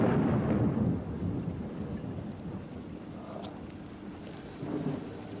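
Heavy pouring rain hisses steadily with deep rolling thunder rumbling through it, loudest at the start and swelling again near the end, outdoors around a chimney where ladders are being hauled up.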